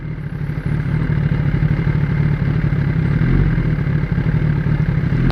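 A Kawasaki ZX10-R sport motorcycle idles unevenly close by, its engine running with a steady low rumble and slight irregular clatter, with no talking over it.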